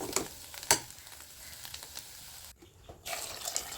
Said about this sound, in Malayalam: കുറച്ച് വെള്ളം കൂടെ ആഡ് ചെയ്ത് കൊടുക്കുകയാണ്